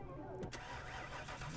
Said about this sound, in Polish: Włączam samochód.